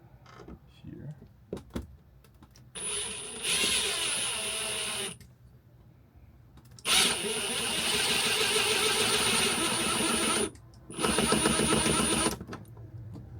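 A power drill drives a screw into soft plastic inside a camper in three sustained whining bursts of a few seconds each, with short pauses between them and people talking around them.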